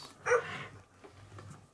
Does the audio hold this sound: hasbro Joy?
yes